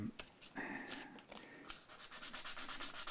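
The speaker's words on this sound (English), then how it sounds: "400 grit piece I tend to do a hand sanding to begin with" Guitar body being hand sanded with 400 grit sandpaper, brisk rubbing and scratching strokes that speed into a quick regular back-and-forth rhythm, close but fairly quiet, alone without talking.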